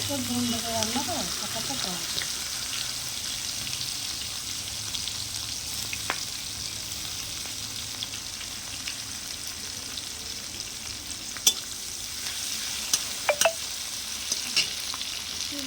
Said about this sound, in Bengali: পেঁয়াজটাও দিয়ে দিয়েছে পেঁয়াজটা যখন ভাজা ভাজা হয়ে যাবে